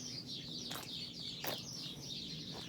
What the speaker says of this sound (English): They are singing for us now.